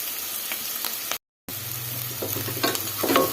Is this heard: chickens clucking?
no